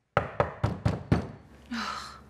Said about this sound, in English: Who's knocking now?